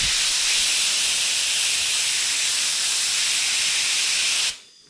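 Leak-check liquid sprayed onto a hose clamp on an air compressor gives a steady, close, loud hiss lasting about four and a half seconds, then cutting off abruptly.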